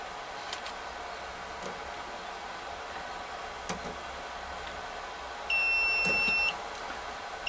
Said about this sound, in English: Don't worry about the alarm, it's just a temperature dropping